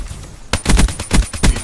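Gunfire in the video game Black Ops 3: a loud burst of rapid shots starting abruptly after a quiet moment, four or five sharp reports in quick succession, close and punchy, with no talk.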